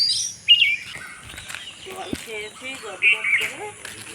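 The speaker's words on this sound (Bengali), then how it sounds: "তোমরা আশা করি পাখির ডাকও শুনতে পাচ্ছ" Birds call outdoors by a roadside on a cool day, with a few sharp high chirps standing out over a person speaking nearby.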